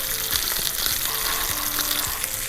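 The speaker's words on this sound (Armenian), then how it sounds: "Կաղամբը տապակում ենք" Cabbage rubbed with garlic frying in a pan, a steady close sizzle with crackling throughout and a few soft stirring knocks.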